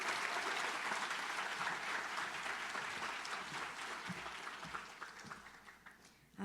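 Faint, sustained applause from an audience at a law school pro bono recognition celebration, steady clapping heard at a distance that gradually thins toward the end.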